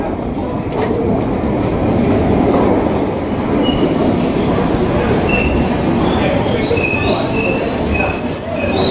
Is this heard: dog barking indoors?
no